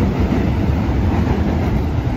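A Brooklyn subway train rumbles along the rails to and from Coney Island, a loud, close, continuous roar with rattling clatter heard from inside the car, with no talk.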